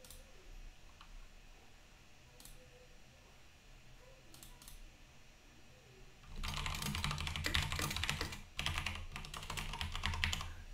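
Typing on a computer keyboard during a coding session, quiet sparse keystrokes at first, then a loud, dense burst of rapid clattering keys close to the microphone with a brief pause midway.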